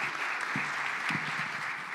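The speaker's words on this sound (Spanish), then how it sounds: "un gran aplauso para ustedes" An audience at a panel on international agreements on goods and services applauding, a full, steady wash of clapping from many hands that holds evenly throughout.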